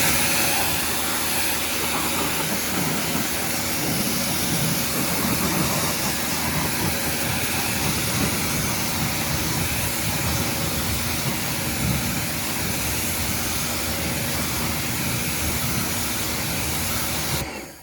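Pressure washer rinsing snow foam off a car wheel, a loud, constant high-pressure hiss and rushing spray held close and unbroken throughout, with no talk.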